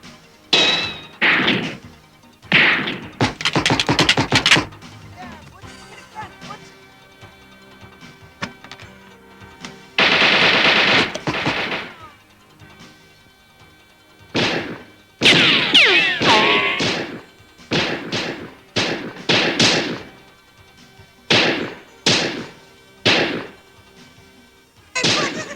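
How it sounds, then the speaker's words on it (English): Gunfire in a movie shootout scene, loud repeated bursts of shots traded back and forth in irregular volleys, with crashes and thuds among them. "It's just style shooting back and forth."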